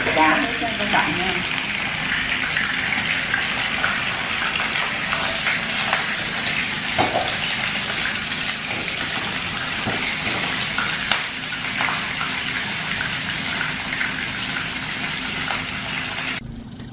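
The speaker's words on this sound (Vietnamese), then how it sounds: "Mình chiên cho nó chín được một mặt đây rồi mình trở qua mặt kia" Mackerel pieces fry in oil in a pan for a tamarind-sauce dish, giving a steady, close, loud sizzle and crackle throughout, with a voice speaking faintly at times.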